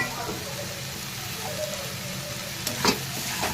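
Eggplant going into a pan of frying fenugreek greens with a little turmeric, giving a steady soft sizzle throughout with a brief louder crackle and stir near the end.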